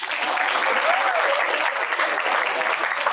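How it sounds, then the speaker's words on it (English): Middle school students applaud together at a school outreach event, a steady, dense burst of clapping that fills the room for a few seconds, with faint voices mixed in. "Let's give him a round of applause."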